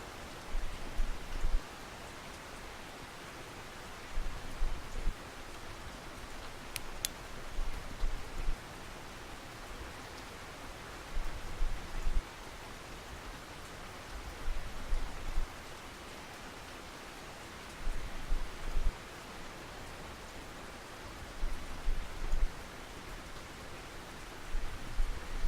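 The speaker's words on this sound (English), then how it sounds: "Starting to rain pretty good." Rain in the fishing video game Russian Fishing 4 at Mosquito Lake, a soft continuous hiss of falling rain with faint periodic low thumps, steady and fairly quiet throughout.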